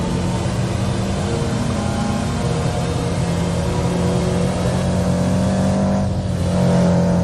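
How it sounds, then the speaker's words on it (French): A car engine in the Roblox game Midnight Racing drones and whirs continuously at high revs, loud and close, with the pitch shifting slightly toward the end. "J'entends son moteur derrière."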